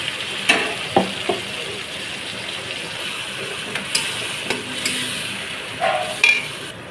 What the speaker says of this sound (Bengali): দিয়ে দিলাম আদা রসুন লঙ্কা বাটা একটু টমেটো বাটাও দিয়েছি